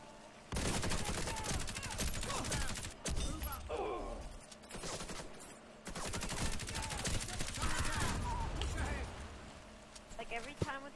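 Automatic and rapid gunfire in the first-person shooter Warface on Xbox, coming in long loud bursts with short pauses, mixed with game effects and voices.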